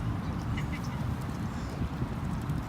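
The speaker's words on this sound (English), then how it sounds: "they're geese" Geese honk in a few short, scattered calls at a distance, over a low, rumbling outdoor background.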